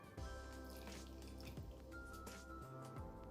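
Sunflower oil poured into a flour mixture for a gata filling, giving a soft, close, wet dribbling and squishing sound that runs steadily without speech.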